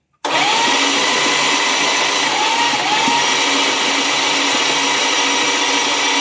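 A Slant Six engine cranks on the starter in a loud, continuous whirring drone that begins abruptly and holds steady to the end, with no talking.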